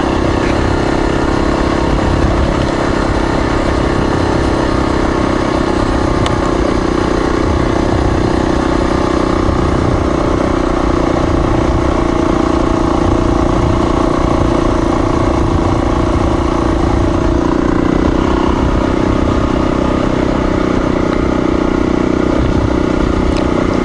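A motorcycle engine labouring steadily up a steep mountain road in North Georgia, a loud, close, continuous drone with rumbling mechanical clatter and wind that holds its pitch for the whole stretch, no voices.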